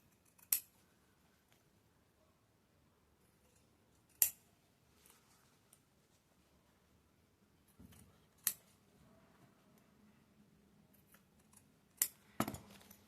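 Scissors snip excess fabric beside a zipper while sewing a small patchwork and tulle pouch, five sharp, isolated cuts spaced a few seconds apart in an otherwise quiet room, with no talking.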